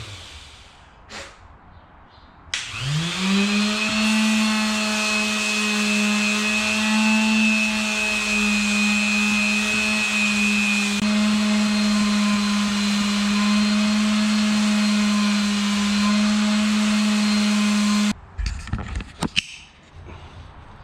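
A palm sander refinishes the rusty face of a brake rotor on a Yamaha YFZ450 ATV. It spins up after a couple of seconds into a steady, loud electric whine with a buzzing tone, holds for about fifteen seconds, then cuts off.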